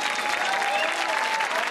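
A studio audience applauds steadily on a Russian comedy show as the judges are introduced, a dense, even wash of clapping that fills the whole stretch with no break.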